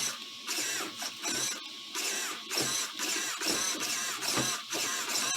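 The weak steering servo of a Redcat Shredder RC car whines in repeated short bursts of mechanical buzzing as it turns back and forth, close up, about eight pulses separated by brief gaps, with no talking.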